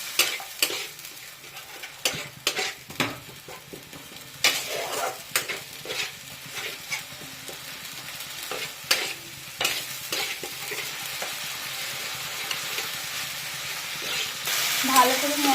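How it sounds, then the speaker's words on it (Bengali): Turmeric and chili spices fry in oil in a pan while being stirred, with soft sizzling under repeated scraping and clacking of a utensil against the pan, fairly close and moderate in volume. "হলুদ লঙ্কাটাকে দিয়ে ভালো করে কষিয়ে নেব"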